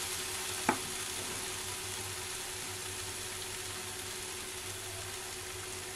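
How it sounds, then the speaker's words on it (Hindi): Spiced masala frying with yogurt in a pan over low flame, a steady soft sizzle running throughout with one brief utensil tap near the start. "दही डालने के बाद हम 2 मिनट और भूनेंगे अच्छे से"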